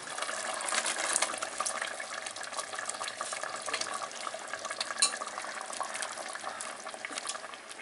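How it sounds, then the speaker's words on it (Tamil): Stingray pieces going into a simmering masala curry in a pot: a soft, continuous bubbling and sizzling with faint stirring clinks, close and fairly quiet, with no talking. "இப்போ நம்ம மீனை போட்டுடலாம்."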